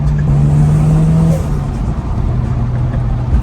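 A Toyota Soarer's V8 engine revs loudly and steadily with a deep droning note that drops slightly midway, a continuous powerful rumble with no voices.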